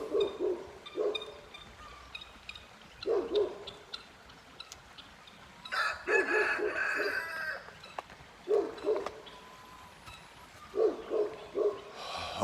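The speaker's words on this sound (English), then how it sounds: "And on cue, 3 roosters at the same time." Several roosters crow in turn and overlap in a quiet rural countryside setting, mid-distance and fairly loud, with repeated crows spaced a few seconds apart and a dog's bark mixed in near the middle.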